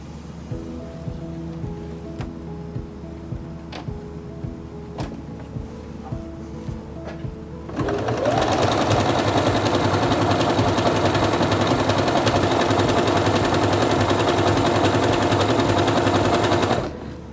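A Quantum Stylist 9960 sewing machine stitches an elongated decorative pattern, starting with soft intermittent clicks before the motor kicks in at steady, loud, continuous running speed for the rest of the stretch.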